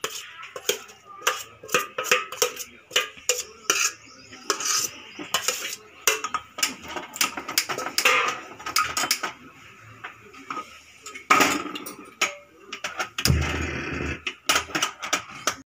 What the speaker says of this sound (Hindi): अभी नारियल मिक्स करने जा रहा हूँ